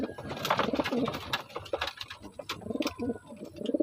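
Racing pigeons in a loft on loading day for a four-lap north fun race coo in soft repeated bursts, close by and overlapping, with some wing and cage shuffling between calls.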